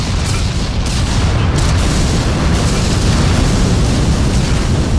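A huge nuclear blast in a video game, a dense, continuous roaring rumble with heavy low-end boom sustained loud throughout, no voices.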